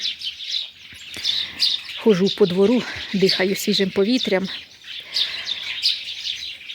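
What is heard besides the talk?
birds chirping outdoors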